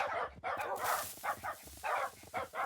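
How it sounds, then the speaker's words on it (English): Several dogs in a video game bark in a quick, uneven series of about eight sharp, moderately loud yaps, with short gaps between bursts. "So I accidentally made too many dogs,"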